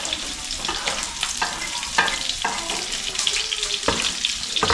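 Garlic and onion sizzling in hot oil in a home kitchen while cooking dinuguan, a steady crackling fry with occasional stirring scrapes, close and continuous, with no voices.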